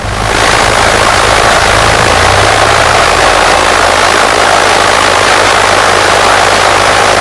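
A light training aircraft's engine runs loud and steady while the plane taxis toward the runway, a continuous close drone with no talk over it.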